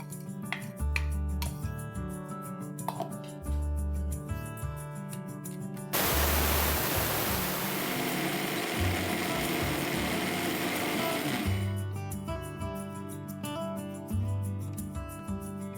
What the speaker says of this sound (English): As the dal has cooled down, I am now adding it in the mixer to make a fine powder.